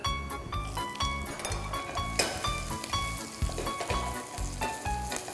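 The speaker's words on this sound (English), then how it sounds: "Saute the onions until they are nice and translucent." Onions sizzling loudly in a pan alongside browned garlic for palak paneer, a continuous close frying crackle with rhythmic stirring scrapes about every half second.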